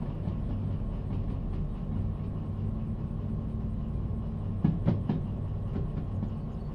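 A train rolls along the rails in the Derail Valley game, a steady low rumble and clatter continuing throughout with a brief cluster of sharper clicks near the end.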